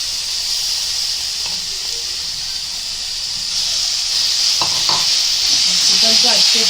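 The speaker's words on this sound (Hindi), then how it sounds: "अभी ये चिकन को हम भून रहे हैं" Chicken pan-roasted (bhuna) for a street-style chicken roll, a loud, continuous hissing sizzle that swells toward the end, with a few faint scrapes.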